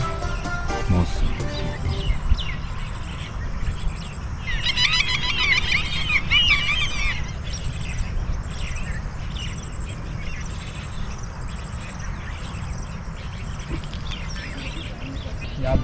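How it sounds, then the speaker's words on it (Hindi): Birds chirp along a jungle cycling track at Shakarparian in Islamabad, with a brighter burst of calls in the middle over steady low outdoor rumble and background noise. "इस ट्रैक पे आपको परिंदों की चहचहाने की"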